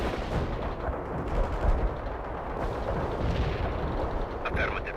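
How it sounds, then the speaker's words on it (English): Heavy artillery strike in the World in Conflict battlefield, a continuous dense roar of distant shelling and explosions rumbling for the whole stretch without letup. "Heavy artillery strike fire."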